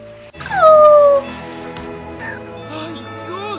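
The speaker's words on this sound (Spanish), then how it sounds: "Aullido triste." A sad, drawn-out dog howl rises loud and close with a falling whine, then fades into a busy background of music and other meme sounds.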